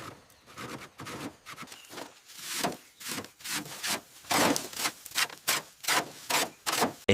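Repeated rubbing and scrubbing strokes on the grimy surface of an abandoned Rolls-Royce, a steady back-and-forth rhythm of rough swipes, close and moderately loud with no talking.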